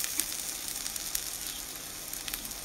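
Onions sizzling steadily in a hot pan for a sweet and sour chicken stir fry, a constant close crackling hiss with small pops and a faint clink or two, and no one speaking.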